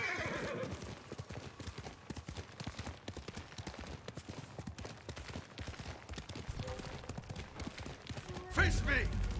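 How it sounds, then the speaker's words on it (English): A horse in the video game Ghost of Tsushima trots with steady clip-clop hooves throughout, whinnying at moments, with a louder neigh bursting out near the end over game ambience. "A horse is still up there."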